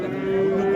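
A single cow at a livestock market lets out a loud, close, sustained moo with a steady droning tone, lasting under a second.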